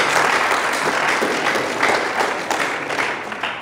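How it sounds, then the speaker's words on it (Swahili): Steady applause from a seated audience at a graduation ceremony at a community development college, many hands clapping together at moderate distance and fading slightly toward the end. "Naomba tuwapigie makofi mengi mengi mengi sana wakufunzi wetu."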